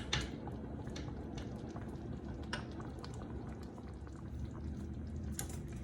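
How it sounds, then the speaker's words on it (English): Blueberry cranberry sauce with bourbon at a strong simmer in a pot, a soft, steady bubbling and popping with scattered small plops, faint and close. "We've done our 10 minutes of a good strong simmer"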